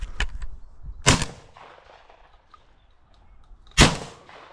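Two sharp, loud shotgun blasts fired at crows over a corn field, one early and one near the end, each ringing out with a short decay amid quiet outdoor background.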